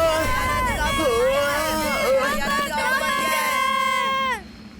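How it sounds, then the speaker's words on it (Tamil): A cartoon crowd shouts all at once, a loud jumble of overlapping high, wavering voices that runs for several seconds before cutting off abruptly into quiet. "ஏன் அப்படி கத்திட்டு இருக்காங்க?"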